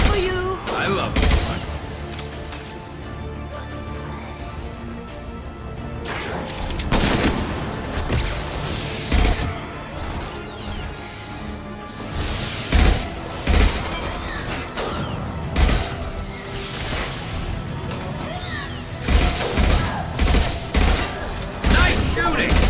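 Gunfire in the video game Mass Effect 2: repeated bursts of rapid shots and heavy impacts over a dense battle din, loud and close throughout, with voices speaking at times.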